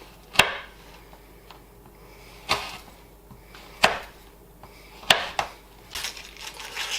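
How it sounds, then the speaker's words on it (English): A knife chops Twix bars into small pieces on a board, giving about five sharp, separate thuds spaced roughly a second apart, close and fairly quiet, with no talking. "also cut them into small pieces"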